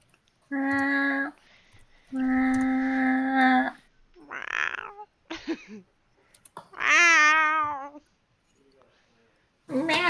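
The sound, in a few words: voice imitating a cat meowing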